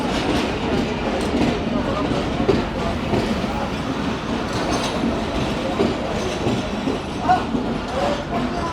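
Khyber Mail passenger train at a Pakistani railway station, a dense, steady rumble of carriages with a clickety-clack rhythm and occasional squeals running throughout, with people talking underneath.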